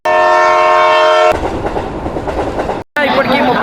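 Train on a long-distance journey to the Kumbh Mela at Prayagraj, a loud horn blast followed by close rumbling wheels and rattling carriages, cut off briefly before the rumble resumes.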